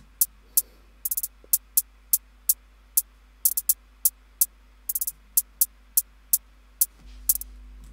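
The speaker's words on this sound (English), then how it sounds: "I started off with some drill hi-hats." Drill-style hi-hats for a beat: a fast, crisp ticking pattern with quick rolls and stuttered triplet bursts, playing alone and dry, with a low tone entering near the end.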